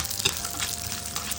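Coconut pieces and lentils sizzle in hot oil for a Tamil-style tempering over beetroot poriyal, a steady close crackling fry with a brief louder spatter burst near the start.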